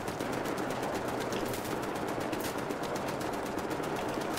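Rapid automatic gunfire in Wolfenstein: The New Order rattles on steadily throughout, a fast, even stream of shots at constant loudness with no pause.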